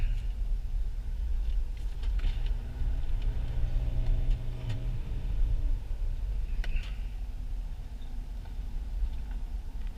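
A 2006 Nissan Pathfinder with a 5-speed automatic driven on the Roval track, a steady low engine drone with road rumble throughout, a brief rise in engine tone midway, no talking.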